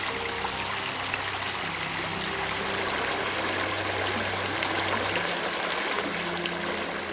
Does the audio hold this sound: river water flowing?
yes